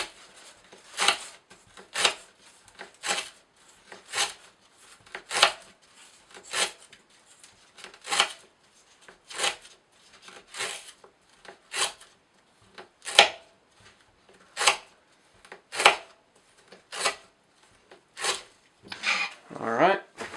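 An S30V steel knife with a toothy working edge slicing through rope, a steady series of about sixteen evenly spaced rasping cuts, close and crisp, with no talking.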